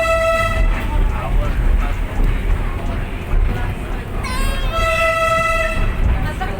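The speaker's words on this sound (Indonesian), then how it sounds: "Itu klakson ya?" A train horn sounds at the Ambarawa railway museum in Semarang, with a long tonal blast at the start and a second rising blast a few seconds later, over busy outdoor background and voices.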